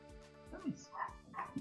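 Dog barking in Stardew Valley, a few short barks mixed with someone talking over it.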